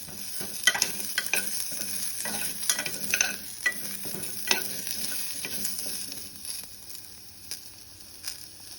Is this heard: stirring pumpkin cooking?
yes